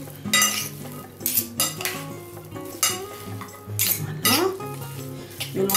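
Spoon clattering against a bowl as bread cubes, apple pieces and cranberries are tossed together for pain perdu, with repeated scraping and clinking strokes up close, alongside faint background tones.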